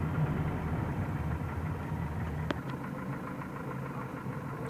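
Car engine rumbling steadily while driving along a rural road near Marshall, Liberia, a low continuous drone with road noise, moderately loud and even, with one brief sharp click near the middle and no talking.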